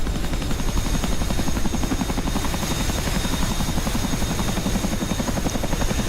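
Chinook helicopter in a flight video game, a loud rapid thudding rotor chop with a steady buzzing drone, continuous and close throughout.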